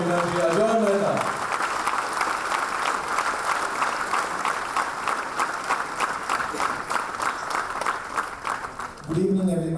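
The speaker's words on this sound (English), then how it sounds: "please keep clapping for our Honorable Municipal Commissioner, Shri Ajay Mehta" Audience applause for the municipal commissioner at a regulations workshop, a steady dense wash of clapping lasting several seconds, with a speaking voice at the start and again as it fades.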